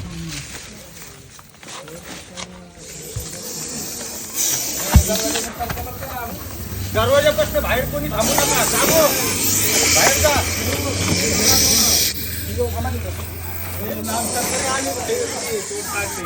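A venomous Russell's viper, held at bay outdoors by cats, gives a loud, sustained hiss that swells in long bursts over several seconds while people talk and call out nearby.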